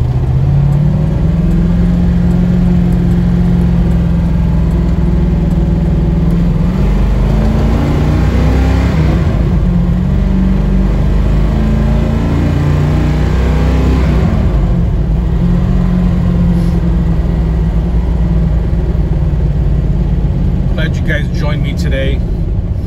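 A 1969 Chevrolet Camaro SS396 with a 396 big-block V8 rumbles steadily up close, its engine note climbing and falling as it revs mid-way before settling back into a deep, even drone.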